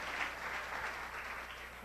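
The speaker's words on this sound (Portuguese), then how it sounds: "Vamos na salva de palmas a Jesus pela vida." A church congregation applauds during a service, a steady wash of many clapping hands heard from within the room, moderately loud and sustained for about two seconds.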